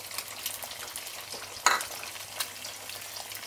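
Spices and salt are stirred quickly in a hot pan for chicken Manchurian, giving a faint continuous sizzle with one sharp clink of a utensil against the pan partway through.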